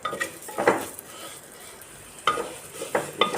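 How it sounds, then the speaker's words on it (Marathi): Semolina roasts in a pan over low heat for a jaggery lapshi sweet, with soft scraping stirs and light clinks of a spoon against the pan in a few short bursts. "हा रवा आपल्याला पूर्ण असा लालसर होईपर्यंत मस्त मंद गॅसवर भाजून घ्यायचा आहे।"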